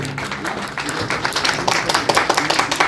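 Dense, loud applause from an audience welcoming a journalist onto the stage at a university freshers' reception, a steady wash of many hands clapping that builds slightly toward the end.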